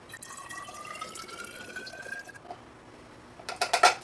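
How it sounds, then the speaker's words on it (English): Water poured from a measuring cup into an empty glass bottle, a faint rising-pitched fill tone for about two seconds, then a short pause and several louder clinks and splashes near the end. "Now pour it in the first bottle."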